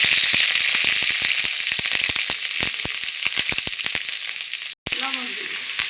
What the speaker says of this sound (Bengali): এখন পরিমাণ মতো পেঁয়াজ দিব।